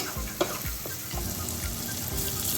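Tomato and asafoetida frying in a pan, with a steady close sizzle broken by regular rhythmic stirring strokes and one sharp spoon clink against the pan.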